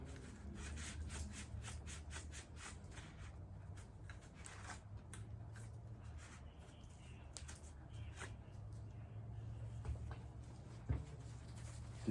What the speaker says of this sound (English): Take your rag, give the inside a quick wipe down.